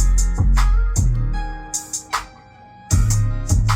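Music with heavy thumping bass hits plays through an Alpine-powered car sound system in a 2022 Hyundai Elantra N, punchy low booms recurring in bursts with a brief quieter gap.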